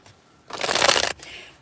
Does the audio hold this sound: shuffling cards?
yes